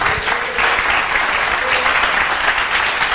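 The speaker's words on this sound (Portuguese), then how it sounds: "Aplauda o Senhor por isso." A church congregation applauding during a sermon, loud continuous clapping filling the hall evenly for a few seconds with no voice on top.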